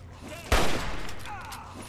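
Gunfire erupts in a Fallout 3 fight against ghouls: one loud sharp shot, its echo trailing away, with faint game noise before and after.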